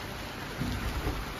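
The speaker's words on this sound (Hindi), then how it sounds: "तो यह बरसात को नजारो और आज आ रही है बरसात" Steady heavy rain pours down in a monsoon storm with wind, a dense hiss broken by a low rumble of thunder swelling midway, loud and close, with no voices.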